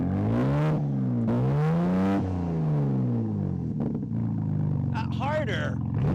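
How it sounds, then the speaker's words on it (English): A BMW M4 engine is revved up close in a few sharp, rising blips that fall back between them, then settles to a rumbling idle as a person speaks. "rev it."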